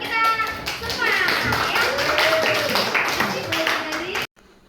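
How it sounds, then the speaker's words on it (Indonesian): A crowd of children clapping together at a school event on traditional games, a steady burst of applause with voices mixed in, stopping abruptly near the end. "Tepuk tangan untuk kita semua ya"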